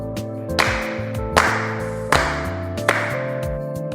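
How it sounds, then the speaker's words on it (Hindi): Hands clapping: four crisp, evenly spaced claps with a steady rhythm over soft background music, with no talking. "ताली बजाना।"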